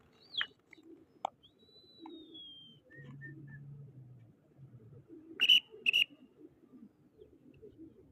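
Pigeons coo in a low, soft run in the middle, with bird calls and chirps scattered around and a sharp bright call near the end.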